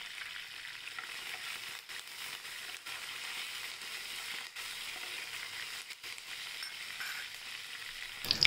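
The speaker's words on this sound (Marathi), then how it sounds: "कढीपत्ता टाकूया, दालचिनी टाकूया आणि लाल मिरची आहे त्या टाकूया." Cloves, fenugreek seeds, curry leaves, cinnamon and red chillies fry in a hot tempering for dahi kadhi, making a soft, continuous sizzle. It sounds fairly quiet and distant, with a couple of brief dips.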